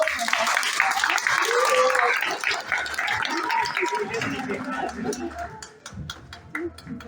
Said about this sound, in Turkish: bir alkış yok mu?